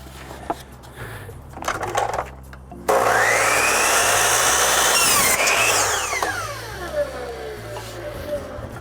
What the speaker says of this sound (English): So we've got to tilt the saw to 45 degrees